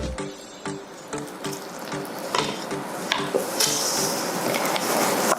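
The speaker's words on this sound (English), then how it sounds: "All right, so I'm going to add a little more water." Water running from a kitchen tap into homemade bread dough, a steady hiss with small clinks and knocks of dishes, no talk.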